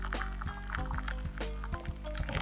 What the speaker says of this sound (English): Pour the boiling water in.